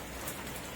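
Steady rain falling in Paradeep, a dense, even hiss of drops on surfaces with faint irregular ticking, continuous and close throughout with no voices.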